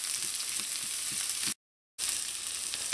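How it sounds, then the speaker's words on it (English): Sliced peppers sauteing in a pan for sardine choka, a soft steady sizzle at low level with a short gap of silence in the middle. "So just let the peppers saute a little before you add in your onions."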